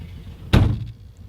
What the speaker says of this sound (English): And so we'll close the door.